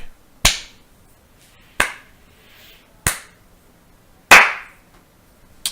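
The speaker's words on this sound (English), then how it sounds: "Joe was interrupted by a slow clapping" Four slow, deliberate hand claps ring out one at a time, each sharp and close with a short echoing tail, spaced more than a second apart in an otherwise quiet space.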